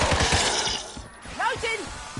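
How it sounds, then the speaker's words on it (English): Quick mechanical clicks and metallic clacks of a weapon being reloaded in MW3 Zombies, mixed with tonal game sounds and voice-like sweeps. "I'm reloading."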